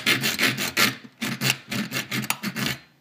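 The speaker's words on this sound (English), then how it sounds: "I'm now going to use my little junior hacksaw to cut through carefully one side of the tread" A junior hacksaw cuts through the brass tread of a Hornby Schools class model locomotive wheel, giving quick, close rasping strokes in an uneven back-and-forth rhythm.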